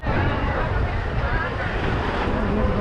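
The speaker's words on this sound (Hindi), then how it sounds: "देखो अभी हवा चल रहा है।" Wind blowing outdoors at a winter fair market, a loud, buffeting gusty rush against the microphone with low rumble, continuous throughout.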